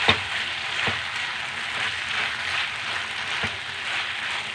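Chilli paneer sizzling steadily in a pan with coriander leaves, a soft continuous fry with a few light stirring knocks, close and fairly quiet, no voices.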